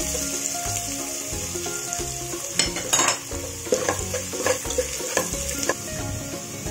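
Marinated chicken pieces frying in a pan for masala fry chicken, a steady sizzle under clinks and scrapes of a spoon stirring against the pan, with no talking.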